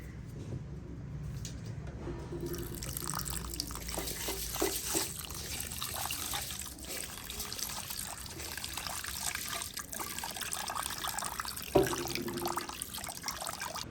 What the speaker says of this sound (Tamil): அரிசியை கழுவி கொண்டு வச்சுருக்கிறோம்